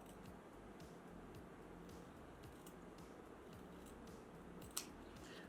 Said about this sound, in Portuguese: Vou cortar na parte central.